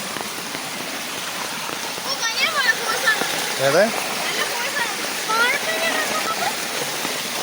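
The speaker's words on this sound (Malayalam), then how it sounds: "ഇത് തോട്ട് മലയിൽ നിന്ന് വരുന്ന വെള്ളമാണ്." A monsoon stream rushes down from the hills in a village with a continuous splashing wash of water. A person speaks briefly over it, and birds chirp faintly in the background.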